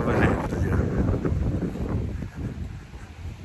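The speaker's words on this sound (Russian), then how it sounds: "Ветер дует." Strong wind roars across a mountain lakeside during a blizzard, a steady buffeting rush with gusty surges battering the microphone close up.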